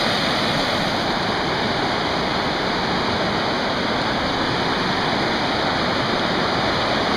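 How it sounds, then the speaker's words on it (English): Rapids on a muddy creek near Swallow Falls rush in a loud, unbroken roar of moving water, steady and close throughout, with no voices. "Definitely a muddy creek."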